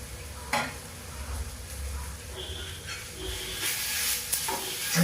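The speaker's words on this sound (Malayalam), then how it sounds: "നല്ല മസാല ഇരിക്കുന്നവരെ നമ്മളൊന്ന് ഇളക്കി മിക്സാക്കുക" A spoon stirs mushroom and potato masala curry in a pan, scraping and shuffling steadily over a continuous sizzle. A few louder clanks stand out near the end.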